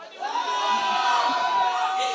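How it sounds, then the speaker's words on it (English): A Tamil crowd at a film star event cheers with a sustained wash of voices and a shrill whistle-like tone running through it. The noise holds at a steady level from start to finish. "Looks like there's a lot of Tamil crowd we have"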